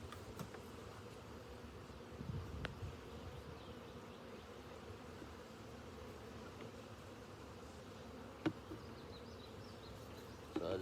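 A swarm of honey bees buzzes steadily around comb they have attached to a wall, a dense, continuous drone with a few brief clicks and taps over it and no voices.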